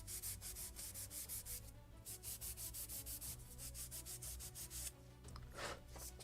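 Scotch-Brite rubs along the edge of a wooden plank for a Model Shipways gunboat Philadelphia kit, a close rhythmic scrubbing of quick back-and-forth strokes that pauses briefly and resumes.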